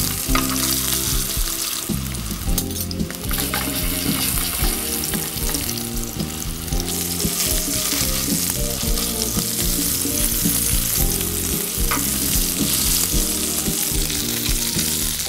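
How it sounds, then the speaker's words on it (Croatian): Meatballs fry in a pan, producing a loud, dense, continuous sizzle and crackle close up, with occasional stirring sounds and no voices. "Tokom pečenja povremeno ih okrećemo tako da ih ispržimo sa svih strana."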